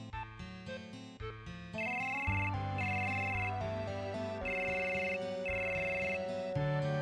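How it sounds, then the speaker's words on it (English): A phone in Final Fantasy VII rings with a bright, repeating melodic ringtone over a musical backdrop, several chiming bursts in steady succession. "Get a phone call."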